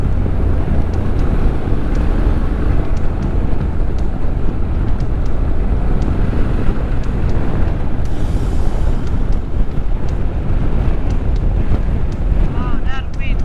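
Strong wind buffets the microphone while riding a motorcycle through the Alps, a loud continuous low roar with gusting rumble throughout and a brief voice heard beneath it.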